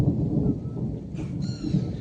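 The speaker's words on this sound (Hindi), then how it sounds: "इंद्रदेव ऊपर से गर्जना के साथ में हल्की बारिश कर रहे हैं" Thunder rumbling with light rain in the Garhwal hills, a steady low rolling rumble with soft rain hiss throughout, no talking.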